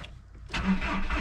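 Diesel engine of an MK4 Volkswagen cranking briefly and then catching, the starter giving way to a steady running rumble halfway through, close and fairly loud with no talking.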